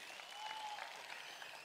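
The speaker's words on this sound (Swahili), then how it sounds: "Mpigieni makofi." An audience at a political gathering applauds for an MP in a brief, steady wash of distant, faint clapping.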